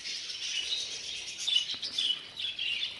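Texas budgerigars chatter and chirp softly in a flight cage at a breeding aviary, a continuous high-pitched warble of many birds with sharper tweets standing out now and then.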